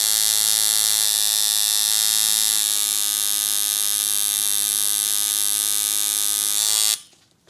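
A coil tattoo machine runs in a loud, steady, close electric buzz rich in harmonics for about seven seconds before cutting off sharply.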